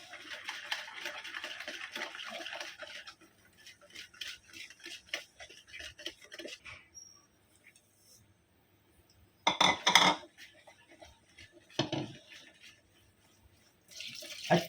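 A spoon stirs rice flour batter in a pot for Kokani ghavane, making scattered scraping and clinking bursts with quieter gaps and a few sharper knocks against the pot.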